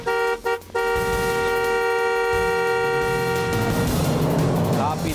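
A loud, sustained car horn blares, with a few short toots at the start, against steady traffic and engine noise.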